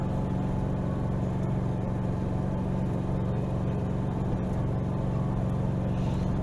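A 2021 Aixam City Pack licence-free microcar with its small engine droning steadily while driving, a constant low hum heard from inside the cabin with no talking.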